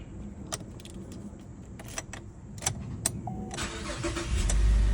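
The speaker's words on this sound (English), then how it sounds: "And it should start the car up." A Cadillac CTS engine cranks and starts on a newly cloned flip-remote key, preceded by a few sharp clicks and a key jangle, then a steady idle rumble building at the end, close by with no talk.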